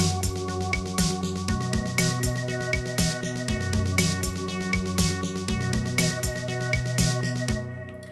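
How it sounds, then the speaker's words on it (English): A Roland JD-Xi synthesizer runs a looping sequencer pattern for a cover song, with steady repeating keyboard notes and bass under regular, sharp snare drum hits, moderately quiet and without speech. "The 4th one is a variation of sequence 2, but it's got the extra snare drum going on in the background"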